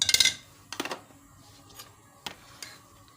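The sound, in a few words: kadhai (wok) handled on the stove to heat butter for ghee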